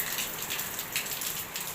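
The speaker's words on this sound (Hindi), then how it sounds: "बाहर इतनी बारिश हो रही है, मैं आपको दिखाती हूँ" Heavy rain falls steadily outdoors as a dense, even hiss of drops with no pauses, fairly close and free of any talk.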